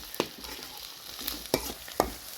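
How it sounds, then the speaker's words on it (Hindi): Onions for veg momos frying in a pan, a steady soft sizzle broken by a few sharp scraping stirs of the spatula, close and fairly quiet with no talking. "इन अनियंस को हम अच्छे से फ्राई कर लेंगे।"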